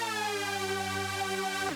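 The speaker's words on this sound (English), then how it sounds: "So now I've added the Dominator with some reverb automations and some pitch automations." Dominator synth patch drenched in reverb, a sustained buzzy harmonic-rich tone holding steady before sweeping sharply upward in pitch at the very end, heard alone.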